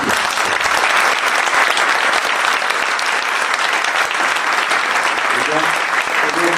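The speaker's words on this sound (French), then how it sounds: "On propose des applaudissements." A conference audience breaks into loud, sustained applause at the close of the session, dense clapping at an even level all the way through, with a voice faintly heard near the end.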